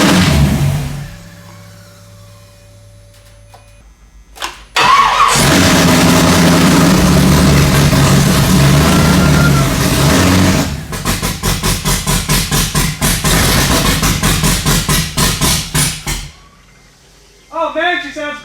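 Untuned Pontiac GTO engine with no mass airflow sensor fitted, starting with a loud roar, then a burst of sharp rhythmic revs before settling back to idle, close up, with a voice in places.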